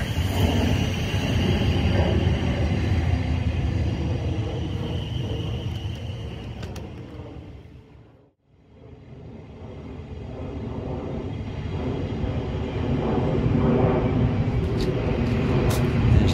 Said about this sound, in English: Famous train, the one with the commuters